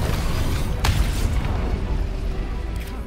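A shot or blast in the fantasy role-playing video game Baldur's Gate 3, a sharp boom near the start followed by a deep rumbling tail and smaller pops over low game background noise.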